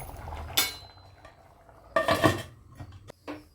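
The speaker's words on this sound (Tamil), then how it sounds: "இதை ஒரு கிளறிட்டு நாம் குக்கர் மூடியை போட்டு மூடிடுவோம்." Jackfruit biryani being stirred in a pressure cooker, giving a few loud metal clanks and scrapes of a spoon against the pot, with quieter scraping between them.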